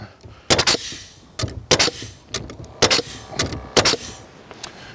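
Senco PRO framing nailer firing nails one after another, five sharp loud bangs spaced roughly a second apart, each a crisp impact with a short rattle, close by with no talking.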